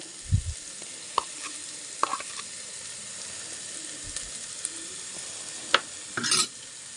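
Wilted onions fry with a steady, quiet sizzle in a pan as spice powders such as cumin go in, with occasional close spoon taps and scrapes of stirring over the hiss.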